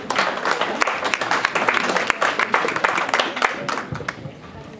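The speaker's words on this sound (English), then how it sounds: "For those who did not clap hands, you have missed an opportunity" Graduation audience clapping hands in a dense, close burst of applause, sharp individual claps overlapping throughout and thinning slightly toward the end.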